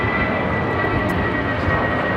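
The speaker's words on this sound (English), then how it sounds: "1043 taking off to San Antonio on an A320" A Spirit Airlines Airbus A320 taking off from LAX, a steady broadband engine roar heard from a distance, continuous and even with no voices over it.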